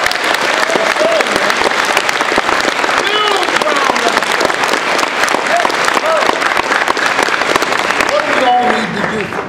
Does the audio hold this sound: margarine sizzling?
no